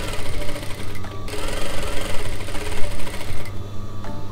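A sewing machine stitching a pillowcase runs loud and close, with a steady, rapid mechanical rattle that pauses briefly twice before carrying on.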